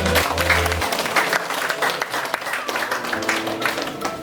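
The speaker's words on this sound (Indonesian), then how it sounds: "Tepuk tangan dulu buat anggota OSIS yang lain." Applause at a high school student council inauguration, a loud continuous crowd clapping with a hum of voices mixed in, steady from start to finish.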